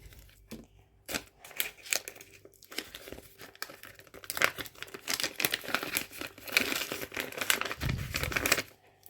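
Paper surprise packet being opened, with irregular crinkling, rustling and tearing bursts that grow busier and louder toward the end, close up and without talk.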